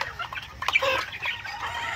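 About 40 white leghorn and black australorp crossbred chickens clucking in a busy, overlapping chorus, with several birds close by and a brief louder squawk partway through.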